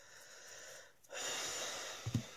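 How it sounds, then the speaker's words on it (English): A person sniffs in a quiet indoor room while trimming a handmade journal cover, a hushed airy inhale rising after a short silence and a couple of soft nasal snorts at the end, close and fairly faint. "Please, please, please excuse my sniffing."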